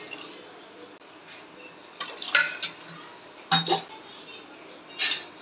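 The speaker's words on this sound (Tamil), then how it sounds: "இப்போ நம்ம தேவையான அளவு தண்ணி ஊற்றிக்கலாம்." Water poured into a pot of egg curry cooking with ground coconut, heard as a few short close splashes and clinks of the pot in separate bursts, with no talking.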